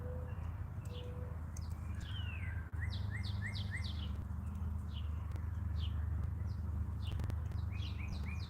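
Several birds chirp outdoors in a yard at evening, giving quick clusters of short, sweeping tweets and a few sharper trills over a constant low rumbling hum.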